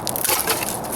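A dry stick of firewood snaps cleanly, a short, crisp woody crack heard up close in the open air.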